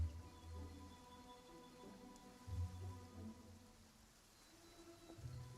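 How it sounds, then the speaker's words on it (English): Steady rain falls in the video game Genshin Impact, a soft, even hiss of drops with a low droning hum beneath, continuous and fairly quiet throughout with no voices. "And it's raining."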